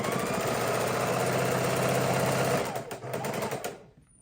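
A sewing machine stitches quilt pieces together in a rapid, steady mechanical chatter that runs for nearly four seconds, then slows and stops.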